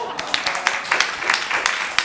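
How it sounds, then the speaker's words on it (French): A French television studio audience breaks into dense, steady clapping at the close of a comedy segment, a continuous patter of many hands heard close and fairly loud throughout. "Il a fallu attendre la fin de ma chronique pour que je me fasse applaudir"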